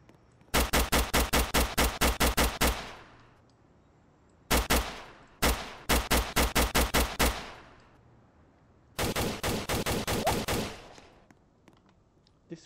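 Rapid rifle fire in a Roblox roleplay game, Blox RP, rings out in loud bursts of evenly spaced shots, several volleys separated by short pauses, with no talking.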